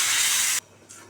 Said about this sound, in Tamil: அதனால் கொஞ்சம் தண்ணி சேர்த்துக்கிறேன்.